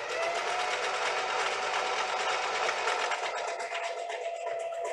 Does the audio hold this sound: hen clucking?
no